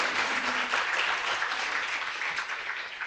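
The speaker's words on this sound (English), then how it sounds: "big applause, everyone." An audience at a closing-remarks session applauds in a dense, sustained round of clapping that holds steady throughout, with no speech over it.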